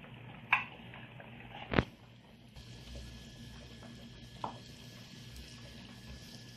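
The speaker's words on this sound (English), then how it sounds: "I want to add in the garlic." Garlic thrown into hot oil in a caldero, bringing a steady broadband sizzle that rises after a couple of clanks from the pot, continuing close and moderately loud with no talking.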